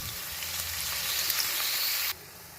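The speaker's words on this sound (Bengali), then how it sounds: "পেঁয়াজটা দিয়ে প্রথমে পেঁয়াজটাকে একটুখানি আমি ভেজে নিচ্ছি।" Onion fries in hot oil in a pan, giving a continuous bright sizzle that holds steady for about two seconds and then abruptly drops away to a quieter hiss.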